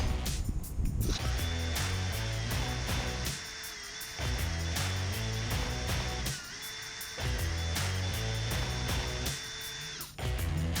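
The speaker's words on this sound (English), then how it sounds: "I've almost drilled completely through the bolt." A power drill whines steadily through a snapped steel bolt, pausing briefly a few times as it bites and restarts, loud and close with no talking.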